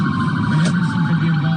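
A police car siren wails at night on Gulf Air Boulevard during a traffic stop, sounding as a loud, close, steady siren tone over continuous vehicle noise, with faint voices underneath.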